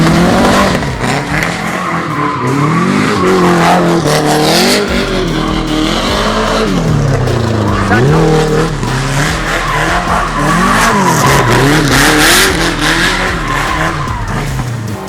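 A race car brakes and slides on a competition track, loud continuous engine howl with shifting pitch, repeated tire squeals and skidding, close and unbroken throughout with no talking.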